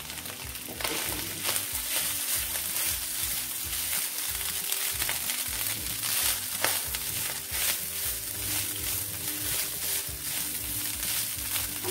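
Rice frying in a hot pan gives a steady, loud sizzle with crackling and occasional stirring scrapes that run continuously and close up, with no talking.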